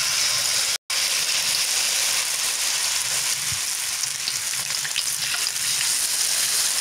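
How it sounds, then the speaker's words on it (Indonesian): Soybean rempeyek crackers frying in hot oil, a loud, constant close sizzle and crackle, broken once by a brief silent gap near the start, with no talk. "Kita akan goreng ya teman-teman."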